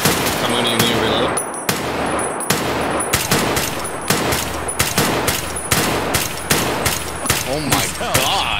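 Rapid bursts of automatic gunfire from the video game Escape from Tarkov crackle close and loud, with sharp repeated shots and short pauses running almost throughout, layered over a dense background.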